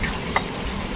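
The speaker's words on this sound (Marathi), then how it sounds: "वरून टमाटरची पेस्ट घातली, तेही चांगली मिक्स केली आणि पुन्हा तेल पूर्ण साईडला येईपर्यंत परतून घेतला." Tomato paste gravy sautéing in oil in a pan, a steady close sizzle running throughout with one brief stirring scrape partway through.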